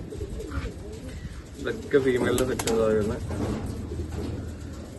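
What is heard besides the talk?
fancy satin-type pigeons cooing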